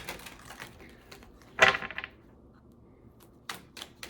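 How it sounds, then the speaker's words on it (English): A card pulled from a mindful message card deck makes a sharp snap and shuffle, with a few scattered clicks and taps around it close by in an otherwise quiet room. "let's pull a mindful message card and see what comes out"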